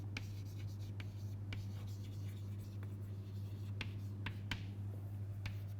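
Chalk or marker writing on a board during a math lecture, with quick scattered taps and strokes over a steady low hum.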